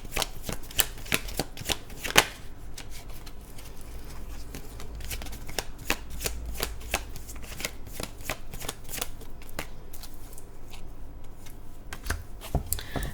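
Tarot cards being shuffled by hand in a steady stream of soft riffling and slapping clicks, close and continuous, with a few sharper card snaps along the way.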